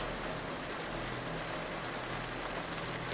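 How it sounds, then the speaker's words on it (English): Steady rain from a film scene pours down evenly, a dense continuous hiss with no pauses, ending in a brief louder splash. "Talk under the rain."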